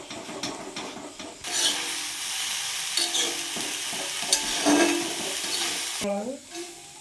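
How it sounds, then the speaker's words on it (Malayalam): Colocasia stem thoran is stirred in a hot pan, with a steady close sizzle and scraping of the spoon through the mix. A brief voice is heard at the end. "നമ്മളിതിനി വീണ്ടും ഒന്നുകൂടെ നന്നായിട്ടൊന്ന് ഇളക്കി കൊടുക്കണം"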